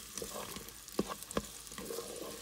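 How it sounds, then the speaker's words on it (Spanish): Two onions sautéing in a pan for squid in its ink, a soft sizzle with a few sharp utensil knocks and stirs. "Vamos a ir sofriendo la cebolla"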